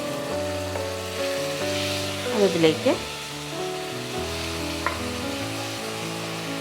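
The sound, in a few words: half kilo of small-cut mutton frying in a pan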